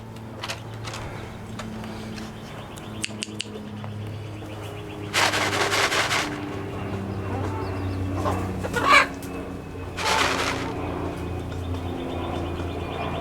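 Chickens and a hen cluck and squabble around food in a backyard coop at close range, with bursts of louder flapping and scuffling among steady low murmuring clucks.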